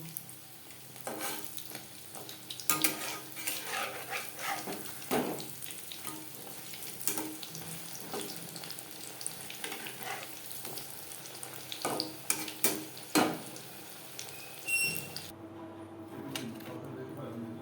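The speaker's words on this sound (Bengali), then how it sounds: "প্রত্যেক ব্যাচের পাকোড়া একইভাবে ভেজে নেব।" Batches of egg and flour pakoras frying in oil, a soft bubbling sizzle punctuated by repeated scrapes and taps of a spatula, with a faint hum near the end.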